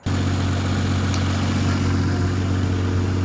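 A BMW E36 fitted with a Toyota 2JZ engine fires up and settles into a steady, loud, close idle with a deep constant hum, heard alone with no talk.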